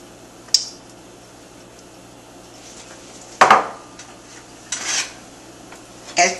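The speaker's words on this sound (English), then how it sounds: "Then I'll dump my veggies. And then the rest of that onion." Chopped vegetables and the rest of an onion tipped into a pot for beef stew: a few separate scraping, clattering bursts of metal and food against the pot, spaced apart and fairly close, with quiet between them.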